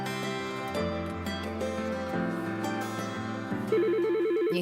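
A telephone rings in an ad for a business phone system, a steady electronic ring close and loud with a repeating warbling pattern that turns sharper near the end, and no voices over it.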